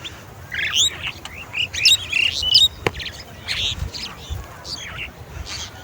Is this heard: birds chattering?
yes